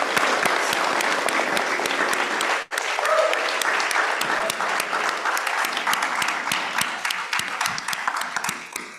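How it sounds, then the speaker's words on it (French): A large audience at a social-justice anniversary event applauds its speakers with dense, steady clapping that runs loud and unbroken for several seconds, with one very brief dip partway through. "Donnons-nous une belle main d'applaudissements pour nos conférenciers et conférencières."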